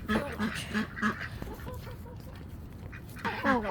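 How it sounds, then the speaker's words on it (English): Several ducks quack nearby outdoors in a rapid, repeated series of nasal calls, some overlapping, with a faint human voice and scuffing under them. "Got some ducks."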